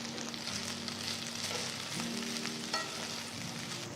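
Mint, coriander and fenugreek leaves sauteing in gingelly oil, a steady close sizzle with a low hum underneath and a brief stir or clink partway through, no talking.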